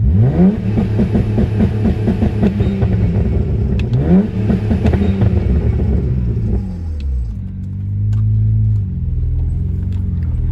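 A BMW 335i engine revs up and down repeatedly, tuned for 2-step launch control, with a deep rumbling exhaust burble, then settles into a steady low idle.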